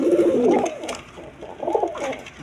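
Pigeons coo at a pigeon farm, two close, loud bursts of low warbling coos separated by a short pause, with no talk.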